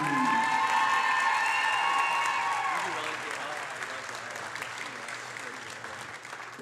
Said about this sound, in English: One more big round of applause for your first Lady Stars senior volleyball players.